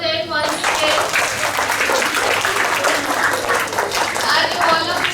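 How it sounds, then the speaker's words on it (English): Schoolchildren and staff at a class 5 B assembly break into sustained applause, a dense steady patter of many hands filling the hall, with a few young voices audible beneath the clapping. "B, let's clap for them once again."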